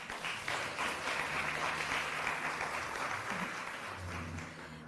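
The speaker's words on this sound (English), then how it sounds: "Give yourselves a round of applause" A luncheon audience at a Women's Equality Day event in Greensboro gives a round of applause, a soft, even patter of many hands heard at a distance, fairly quiet and steady.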